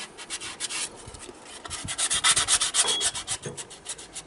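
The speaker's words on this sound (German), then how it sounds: "Jetzt werden die Wangen hier noch schön sauber geschmirgelt, gefettet" Hand sanding the cheeks of a Lofrans anchor windlass on a sailing yacht before greasing, heard as quick rhythmic rasping strokes close up that speed up and grow louder in the second half, with no talk.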